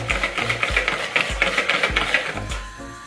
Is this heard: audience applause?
no